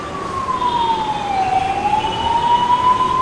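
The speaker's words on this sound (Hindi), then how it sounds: "कई सारी एम्बुलेंसेज इस वक्त मुंबई की सड़कों पर दौड़ रही हैं" An ambulance siren wails on a Mumbai street, loud and close, its single tone sliding slowly down and then back up over a low traffic rumble.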